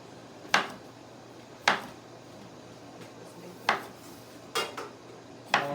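A kitchen knife slices through a cucumber into rounds, producing several sharp clacks against a cutting board at irregular intervals over a quiet background.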